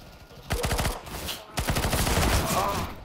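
Rapid automatic gunfire in the video game CS:GO during a competitive match, loud bursts of repeated shots in two stretches separated by a brief pause.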